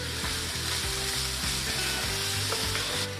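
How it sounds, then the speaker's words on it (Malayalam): Seven curry leaves dropped into hot oil over a medium flame for spicy beef kondattam, giving a loud, steady, close sizzle and crackle that runs unbroken throughout. "കുറച്ച് എണ്ണയും കൂടെ ഒഴിച്ച് കൊടുക്കാം. ഒരു മീഡിയം ഫ്ലെയിമിൽ വെച്ചാൽ മതി. ഇതിലേക്ക് ഒരു 7 ഇല കറിവേപ്പില ഇട്ട് കൊടുക്കണം."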